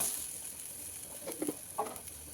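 A tea-time snack from North Karnataka sizzles faintly in oil drizzled around it on a pan, with a low steady hiss broken by a few small crackles near the end.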